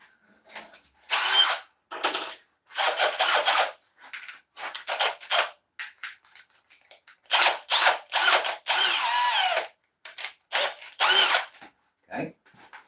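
A cordless drill driver in a woodturning workshop whirs in repeated short bursts, starting and stopping at irregular intervals, close up with quiet gaps between.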